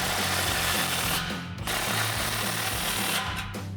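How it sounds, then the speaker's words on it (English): An impact wrench with a 16mm socket working the exhaust clamps on a Ford F-150 dual exhaust, heard as loud continuous buzzing rattle with a couple of brief pauses, nearby and without speech. "We have our impact and 16mm socket."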